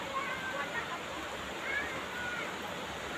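River water flowing steadily over stones, a continuous broadband rush with faint bird chirps on top, fairly close and unchanging throughout.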